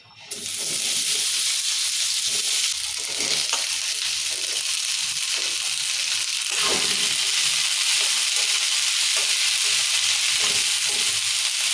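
Ivy gourd frying in hot oil in a pan, a loud steady hiss of sizzling that starts abruptly and holds throughout, with occasional soft pops and stirring sounds.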